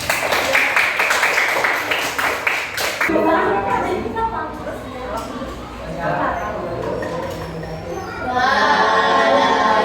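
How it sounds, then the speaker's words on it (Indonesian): Applause for a student group in a classroom: a burst of dense clapping for about three seconds, followed by a noisy room where people talk and murmur. Clapping rises again near the end. "Oke, tepuk tangan buat kelompok."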